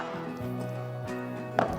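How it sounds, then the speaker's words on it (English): A knife chops garlic finely for slider buns, with two sharp, close chops near the end over a steady tonal hum in the kitchen. "we're just gonna chop this up very finely because we don't want chunks of garlic on top of our buns"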